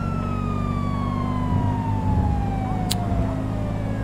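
A wailing emergency vehicle siren in a video game with a slowly falling pitch sounds over a steady engine rumble, continuous throughout with a brief sharp tone near the end.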